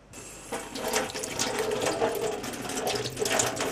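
Running water splashes steadily from a tap while an egg yolk is rinsed during egg-tempera emulsion preparation, a close hiss that starts abruptly and continues with small splashy fluctuations.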